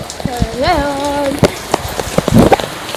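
Rain pouring in the Philippines, a dense patter of drops hitting nearby surfaces, with a person's excited vocal cry rising over the downpour near the start.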